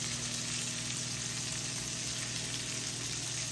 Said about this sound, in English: Do you see them sizzling? Do you see the sizzle?